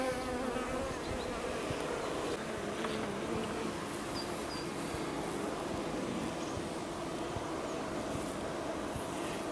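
Honeybees on a hive frame in an apiary during a late-summer check, a dense continuous buzzing hum close by that stays steady throughout, with no talking.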